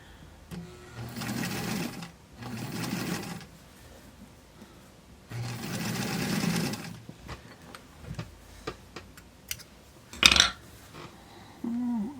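Sewing machine stitching doll clothes in three short bursts, with quiet clicks, taps and fabric handling in the gaps and a sharp knock near the end.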